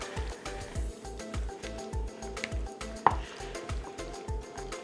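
A wooden spoon working through chunky potato salad in a bowl, giving a regular, rhythmic series of soft squishy thumps and scrapes with one sharper knock against the bowl, close and alone.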